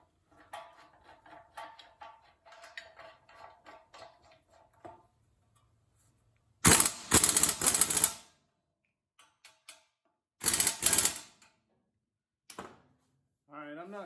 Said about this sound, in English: about 2 to 3 ugga-duggas with the impact wrench should be sufficient